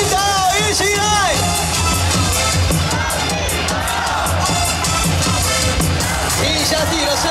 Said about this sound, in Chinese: 大声喊出张晋德，一起来！